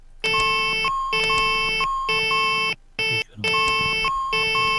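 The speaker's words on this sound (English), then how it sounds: "Master caution's beeping away at me." Repeating master caution alert in a Saab 340 cockpit in X-Plane 11: loud, close electronic beep-tone bursts of about a second each, cycling steadily with a couple of brief gaps, no talking.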